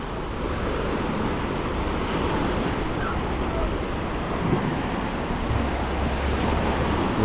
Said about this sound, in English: The wave on the way in.